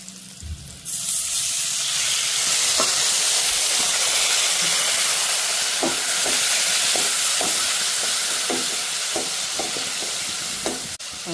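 Water poured into a hot cooking pan of urad dal curry sets off a loud, continuous sizzling hiss, with light clicks of stirring scattered through it.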